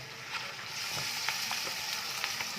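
Soaked sago poured into a hot pan for sabudana khichdi, a soft, even sizzle with light, irregular crackles and a few faint taps, close but quiet, no voices.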